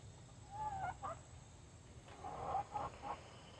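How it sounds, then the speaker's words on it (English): Chickens in a large coop cluck and call softly at a distance, with a few short murmuring calls set against a faint, steady background hum. "Some chickens in it right now."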